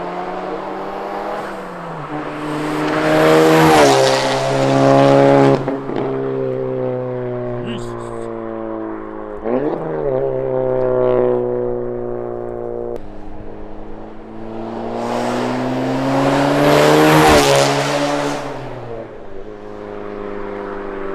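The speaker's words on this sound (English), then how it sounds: "All you hear is Chris's car." A modified VW MK7 GTI or Golf R on a stage 2 clutch accelerates hard in two loud bursts. Each rising engine roar climbs sharply through the gears with audible shifts, close to the listener, with voices speaking between and over the pulls.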